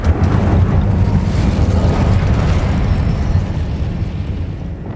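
Incendio fire spell cast in Hogwarts Legacy, a loud, dense roaring whoosh of flame that holds steady for several seconds with rumbling low end, close and full.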